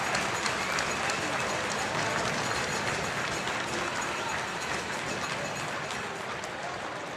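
An audience at a hockey game in McMorran arena applauds an injured player as he is helped up off the ice, steady broad crowd clapping heard at a distance under an announcer's voice.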